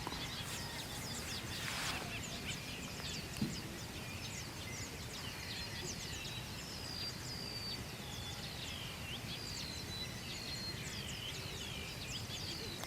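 Small birds chirp and trill repeatedly by a river at Mapanuepe Lake, thin calls scattered over a steady broadband rush of flowing water, moderately distant and with no talk.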